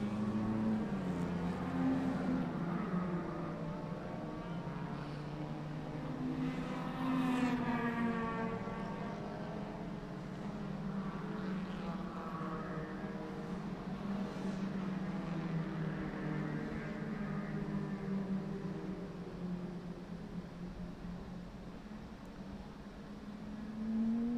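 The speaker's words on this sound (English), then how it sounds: "here comes the Clio with a little MX-5 nipping at his heels in behind" Renault Clio and Mazda MX-5 race cars at a historic motor racing festival, engines droning and rising in pitch as they approach and pass at a distance, one following closely behind the other, fairly faint.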